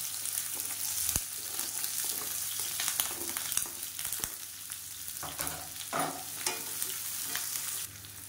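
Chopped large onion and five green chillies fry in a pan of oil for millet semiya upma, giving a steady close sizzle broken by frequent scraping and clinking stirs, with no talking.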